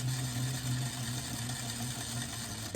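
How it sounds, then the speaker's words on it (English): A home sewing machine runs steadily, stitching fabric around a curved seam for a frog plush, with a continuous close motor hum that holds an even pace for the whole stretch, no voices. "I'm going to just keep stitching around till I meet up with that other seam"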